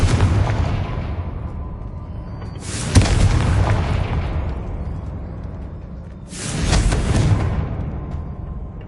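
Two deep, booming blasting-curse explosions from the Hogwarts Legacy video game go off a few seconds apart, each a loud burst with a rumbling tail fading slowly.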